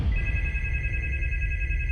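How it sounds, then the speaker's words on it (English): A telephone ringing downstairs, a steady electronic ring held without a break over a low, rumbling background, fairly loud and unbroken. "The phone screamed downstairs."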